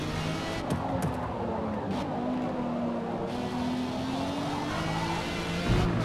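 Car engine in the racing video game Forza Motorsport, a sustained synthetic-sounding drone with rising and falling revs and a brief surge near the end, steady and fairly loud.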